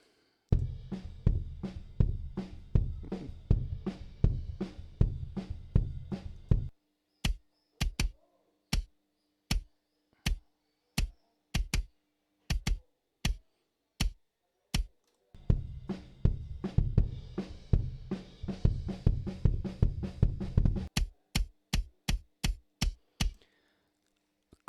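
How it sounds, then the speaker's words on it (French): An unprocessed rock/metal kick drum plays in fast, dense double-bass bursts, then in slower evenly spaced single hits, then in rapid runs again. The hits are dry, punchy and close, with nothing else heard. "ce que je vais vous montrer, c'est le son du kick avec aucun traitement"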